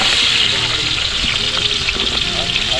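Sliced onions dropped into hot oil in a heated pan frying with a loud, continuous close sizzle and bubbling, with faint voice traces underneath.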